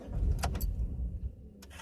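A 2000 Chevrolet Impala with a hard-start problem stalls as the throttle is pressed to the floor. A close, low engine rumble runs, then sags and dies, leaving a brief click at the end.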